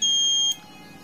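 A Luminous Eco Watt 1050 inverter under repair, just connected to its battery, gives one loud, piercing electronic beep lasting about half a second, then only a faint electrical hum remains.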